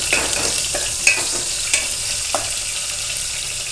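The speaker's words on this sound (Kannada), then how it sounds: "ಸ್ವಲ್ಪ ಎಣ್ಣೆ ಸಾಸಿವೆ ಕರಿಬೇವು ಸ್ವಲ್ಪ ಈರುಳ್ಳಿ ಇಷ್ಟು ಹಾಕಿ ಫ್ರೈ ಮಾಡ್ಕೊಳ್ಳೋಣ" Mustard seeds, curry leaves and onion frying in a little hot oil for a South Indian tempering, giving a steady close sizzle with a few sharp pops and spatters spread through.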